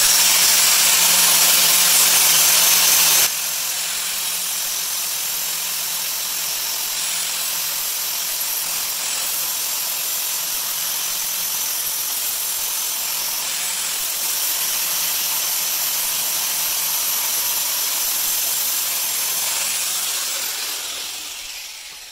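Grinding on a metal wind turbine driveshaft gives a continuous harsh, hissing roar, brighter and louder for the first few seconds and then steadier, before tailing off at the end.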